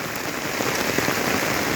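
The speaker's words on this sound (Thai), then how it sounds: "เสียงฝนออกมาข้างนอก" Heavy rain pours down outside a house in a dense, loud, continuous roar of drops hitting surfaces, steady throughout without any voices.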